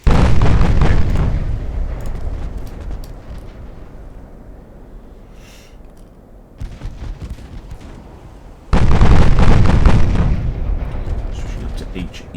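Heavy warship main guns fire in the naval battle game Ultimate Admiral Dreadnoughts, two loud booming salvos with long rumbling decay, separated by a quieter stretch of low ambient rumble.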